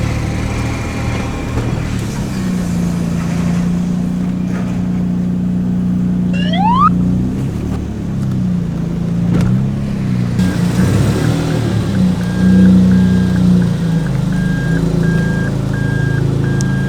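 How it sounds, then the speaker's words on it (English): A Lexus IS200 engine with rod knock runs steadily, a low, even drone close by with a brief rising chirp partway through and slightly busier noise toward the end, with no clear knock standing out. "it's not your really obvious rod knock that makes you cringe like hell, but it is there on startup and on revving"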